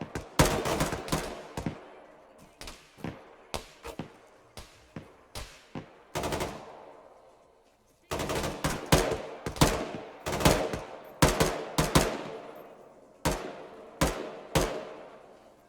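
Gunfire in the video game Arma, repeated bursts and single shots in clusters with sharp echoing tails, briefly pausing before firing resumes heavily.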